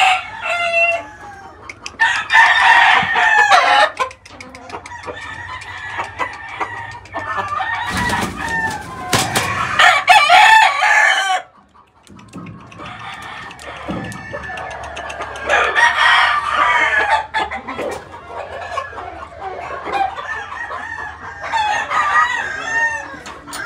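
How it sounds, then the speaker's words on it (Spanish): Two Rubo hens and a Rubo rooster in a poultry breeding lot: a rooster crows loudly and up close several times, with hens clucking steadily in between. "Estas son 2 gallinas rubos"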